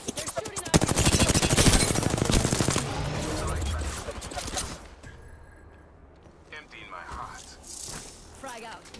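Rapid automatic gunfire from a weapon in the video game Apex Legends: a dense, loud burst of rattling shots for about four seconds, then quieter game sounds and scattered effects.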